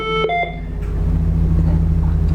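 A few short, bright electronic beeps sound up close at the start as an alarm pendant is pressed on a Smartcaller HP5 phone, followed by a steady low hum that carries on beneath them.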